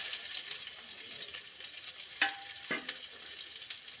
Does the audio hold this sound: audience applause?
no